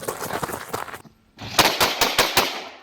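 Rapid bursts of gunfire, a continuous rattling volley, a brief near-silent gap, then sharp, loud, evenly spaced shots ringing out close by with no one talking.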